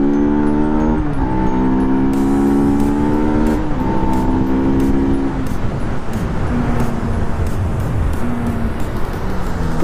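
After an engine noise repair, a motorcycle engine runs close by with shifting, revving tones, with road and traffic noise around it.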